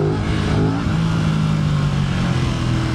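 An Aprilia RS 660 motorcycle ridden on the road, its engine note loud and close, climbing and shifting pitch as it revs over a constant rush of wind and road noise.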